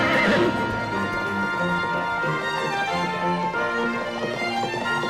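A cartoon horse whinnies loudly at the start, then gallops on with steady hoofbeats under a full, continuous layer of background music.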